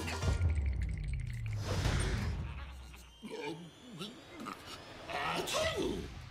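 A single loud sneeze bursts out among background noise and scattered voices, followed by brief talking.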